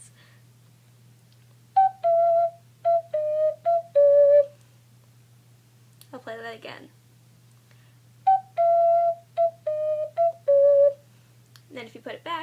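Clear, pure ocarina notes play a short phrase of the Tokyo Ghoul theme, then a person speaks briefly before the same phrase repeats, followed by more talking.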